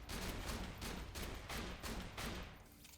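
Hyperion Butcher shotgun from Borderlands 2 firing in rapid succession, roughly six heavy booming blasts in an even rhythm, loud and dense with no talk.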